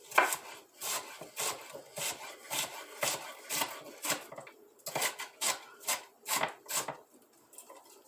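A knife chops onion on a cutting board in steady, evenly spaced strokes, each a close, crisp knock, carrying on for several seconds without talk.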